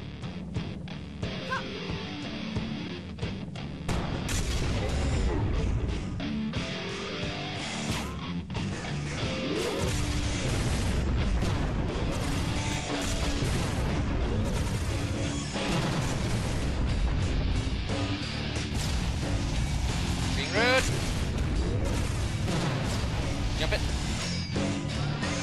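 In the video game Iji, the Devastator weapon fires repeatedly with heavy booming blasts and crashing explosions, dense and loud across the stretch, with a player talking over the action.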